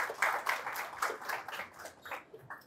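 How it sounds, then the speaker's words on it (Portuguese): A small audience claps for an athlete at a summer athletics talk event, with scattered, fairly faint handclaps over a few seconds that trail off toward the end. "Aqui, uma salva de palmas para a Lia."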